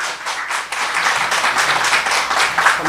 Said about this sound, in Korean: 우리가 오늘 나오실 때 박수로 환영해 주시기를 바랍니다